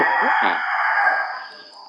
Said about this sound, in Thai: เสียงไก่ขันเนี่ย